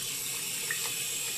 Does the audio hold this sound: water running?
yes